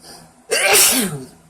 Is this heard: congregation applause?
no